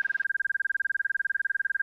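Aircraft stall warning horn sounding during a power-on stall with the nose pitched up steeply: a loud, steady, continuous tone holding throughout, briefly overlapped at the start by cockpit noise.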